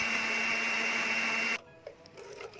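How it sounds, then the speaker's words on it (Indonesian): A kitchen blender purees dates with milk, its motor whirring at a loud, steady high pitch for about a second and a half before switching off abruptly, leaving faint clinks and quiet room noise. "Kita blender sampai kurma benar-benar halus."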